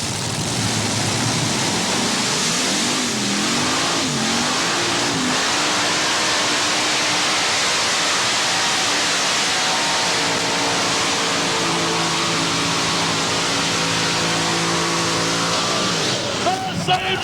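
A modified tractor in the NTPA 9200 class roars loudly and continuously down the track at a 1989 Ohio State Fair tractor pull, its engine pitch rising and falling. An announcer talks over the engine noise.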